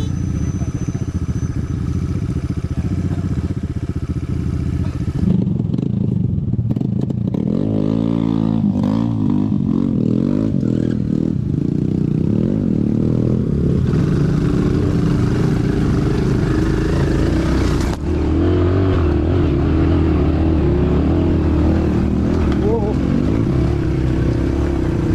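A motorcycle engine rumbles steadily up close, its revs rising and falling throughout, with a voice talking over it at times.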